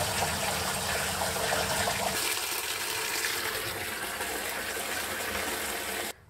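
Water gushing into a rainwater harvesting storage barrel, a loud, close rushing and splashing flow that softens slightly partway through and stops abruptly at the end, with no voices.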